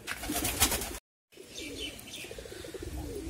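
Gola pigeons, kept as pet birds, coo close by in soft rolling calls. The sound drops out completely for a moment, then the cooing resumes and continues steadily. Nobody speaks.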